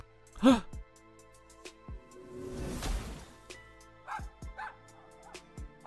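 A small terrier in Lil' Guardsman gives a sharp bark near the start, then a couple of quicker yips later, separated by quiet gaps and a brief noisy swell in the middle.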